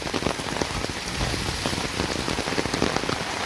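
Light rain falls beside a dry river in the Konkan countryside, a steady close patter of drops on surfaces with scattered sharper splashes, no voices.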